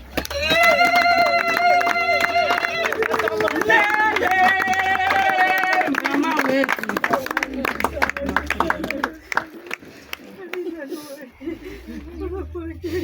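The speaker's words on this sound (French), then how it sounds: "applaudissements et les cris de joie" A crowd at a graveside ceremony claps and lets out joyful cries, with a voice and singing-like tones over the applause at first, then scattered clapping and chatter as it dies down.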